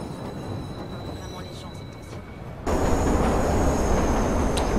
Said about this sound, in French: Je me demande s'il y a des contrôleurs dans ces trains.